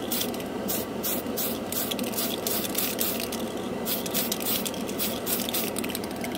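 A Tamiya Metal Colors spray can spraying paint in a steady, close, continuous hiss broken by quick pulsed bursts, with no voices.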